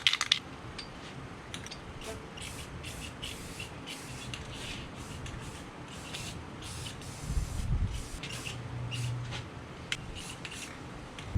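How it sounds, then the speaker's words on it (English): Rust-Oleum gloss black spray paint sprayed onto 3/4 inch, 30-inch PVC pipes, a series of close hissing bursts with brief gaps, plus faint clinks and rattles. "we're going to spray these 3/4 inch, 30 inches long PVC pipes"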